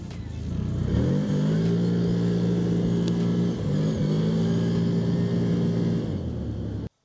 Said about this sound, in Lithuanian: Galios duodam va biškį gazą, jau iš karto praslysta ratai